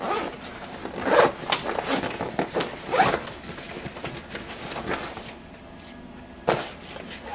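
A zipper is pulled open on a Fieldline tactical bag, several quick ratcheting zips in bursts, close and fairly loud, with a softer rustle and a final sharp pull near the end.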